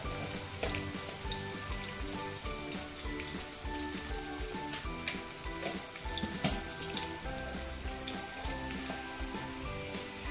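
Onions frying in a pan for a citron masala chitranna, a steady crackling sizzle that runs throughout, with faint tonal background music layered over it.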